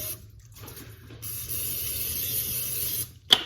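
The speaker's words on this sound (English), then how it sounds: "Just gonna spray it with a little oil." A steady spray hiss runs for a couple of seconds after some quieter kitchen handling, ending with a sharp click or clatter.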